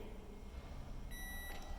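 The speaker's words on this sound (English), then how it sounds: "Press stop/Q for 3 seconds for a long beep." A single steady electronic beep from a Blanco BM32CX microwave oven sounds for about half a second over a low background hum.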